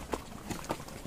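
During a horse ride in Kufri, hooves clip-clop in a quick, uneven series of four or five close, soft knocks.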